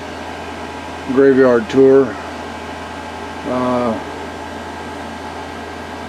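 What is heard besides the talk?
air conditioner running inside a parked camper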